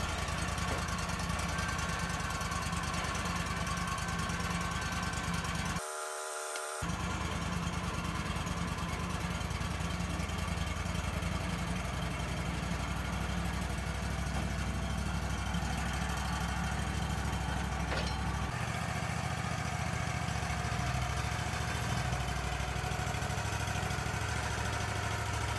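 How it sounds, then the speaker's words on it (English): Gas engine of an LT35 sawmill running steadily while milling small Dawn Redwood logs, a continuous loud droning hum with a brief dropout near the start and a shift in tone partway through. "I started up my LT35 and milled up the smaller logs that we had of the Dawn Redwood."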